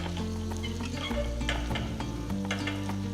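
Curry leaves crackle and sizzle in hot oil during tempering for a Tamil lunch dish, a loud, dense spitting fry with sharp pops and a stirring clatter throughout.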